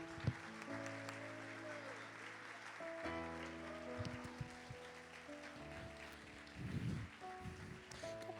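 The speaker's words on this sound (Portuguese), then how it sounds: "Você pode aplaudir ao Senhor por isso?" A church congregation applauds during a service, a broad wash of clapping running under sustained keyboard or organ chords, with some swelling bursts of louder clapping near the end.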